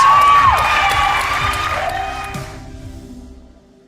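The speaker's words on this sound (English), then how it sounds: "Round of applause, guys." A crowd at a televised talent show final in Wales cheers, whoops and claps loudly, with excited shouting on top. The noise fades steadily toward quiet over a few seconds.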